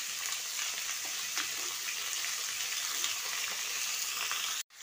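Mutton pieces sizzle in hot mustard oil, a steady close crackling and hiss that holds at an even level throughout, with a brief dip near the very end.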